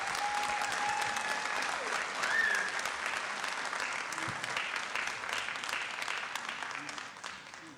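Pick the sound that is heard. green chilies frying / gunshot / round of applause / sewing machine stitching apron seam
round of applause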